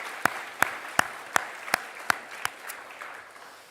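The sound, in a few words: church congregation applauding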